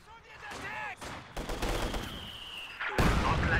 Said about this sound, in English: What a shot from the 120mm that is.